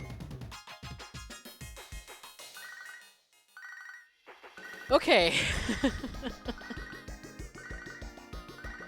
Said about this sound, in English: Shut that phone off.